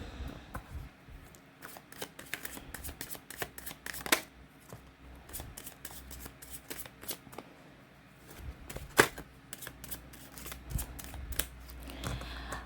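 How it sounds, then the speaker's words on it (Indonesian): Tarot cards are shuffled by hand in a steady, close run of papery riffles and soft slaps, repeating throughout with a few sharper snaps and no talking. "Sambil saya baca doa dan saya kocok kartunya"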